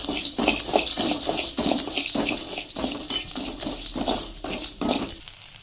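Dry crackling and rushing hiss from salt dry-roasting in a pan as moisture cooks off, loud and close, swelling and fading in repeated waves as it is stirred.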